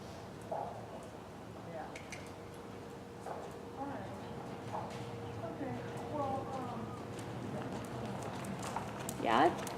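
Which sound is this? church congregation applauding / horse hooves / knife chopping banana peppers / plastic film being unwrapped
horse hooves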